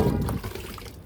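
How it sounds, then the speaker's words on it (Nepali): Water is poured onto potted chili plants in hot weather, a brief close gush that tapers off within about a second. "त्यही भएर मैले चाहिँ पानी चाहिँ धेरै धेरै हालिदिन्छु यिनीहरूमा"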